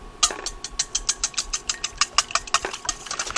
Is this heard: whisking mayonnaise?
yes